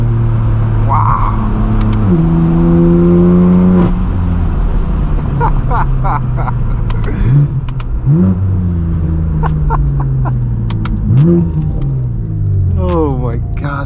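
A BMW M4 F82 with S55 engine accelerating hard through canyon roads, engine note rising and dropping through repeated gear shifts, loud and close inside the cabin, with people talking over it.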